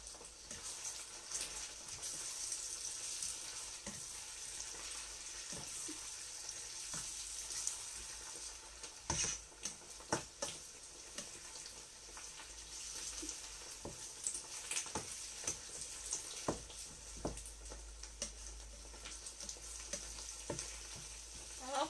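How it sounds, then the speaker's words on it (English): Spinach egg sauce frying in a pan, with a soft steady sizzle broken by repeated clinks and scrapes of a utensil stirring, fairly quiet and close, with no talking. "I have to stir properly."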